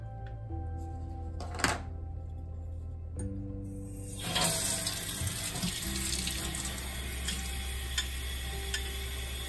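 A kitchen tap runs steadily into a sink as overnight-soaked sprouts are drained and rinsed; the water starts midway and keeps splashing close by, with no talking.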